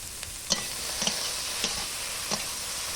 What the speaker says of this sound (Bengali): এই যে আমি খুন্তি দিয়ে কেটে কেটে দিচ্ছি